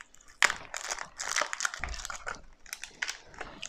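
A plastic cup is pulled and squeezed off the roots of an Anthurium Sierra Magic houseplant, close crinkling and crunching plastic in irregular bursts with soft rustles between.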